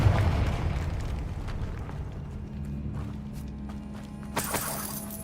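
A Confringo fire spell in the Hogwarts Legacy video game lands with a deep booming blast at the start, rumbling debris afterward and a sharp crackling burst near the end.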